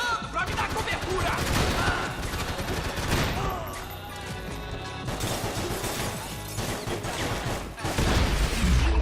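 Loud bursts of rapid gunfire rattle in close succession during an intense firefight, with shouted voices mixed in.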